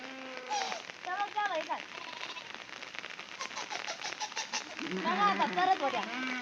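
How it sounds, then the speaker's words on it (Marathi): Steady rain patters and crackles on a surface throughout on a hillside with a flock of sheep, with people talking over it in the foreground. "पाऊस चालूच आहे"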